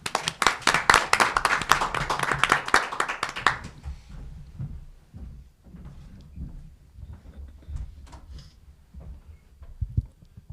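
An audience applauds a speaker being welcomed at a National Be A Teacher Day livestream event, dense clapping for about four seconds that fades to a few scattered claps and room noise.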